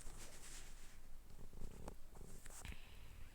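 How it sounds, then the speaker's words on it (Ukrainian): Soft rhythmic purring rumbles close by, quiet and continuous, with a few faint clicks and rustles. "на посторонні звуки, просто в мене тут рядом котик"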